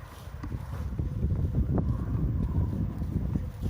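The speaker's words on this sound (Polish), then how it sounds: "Wieje jak cholera." Strong wind gusts blow outdoors in an apple orchard, making a steady low roar and buffeting the microphone throughout, with no other clear sounds.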